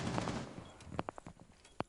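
Rainbow Six Siege gunfire comes as a dense burst of shots at first, then a series of sharp, separate cracks and thuds that sound moderately distant, with no speech over them.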